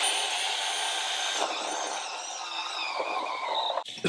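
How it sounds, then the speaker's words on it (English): Step bit drilling a large hole through an Airstream trailer bumper, a steady high whining grind held for about four seconds and close by, with a brief clunk at the end. "So I'm just using a step bit now to drill my big hole."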